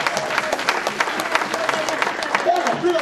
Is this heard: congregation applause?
yes